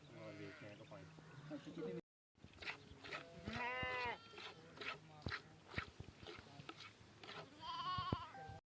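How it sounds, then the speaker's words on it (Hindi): Sheep and goats in a large herd in the Cholistan desert bleat repeatedly, several overlapping wavering calls near and far, with a brief gap early on and someone talking at times over the flock. "काफ़ी ज़्यादा तादाद में भेड़ और बकरियां इनके पास मौजूद हैं"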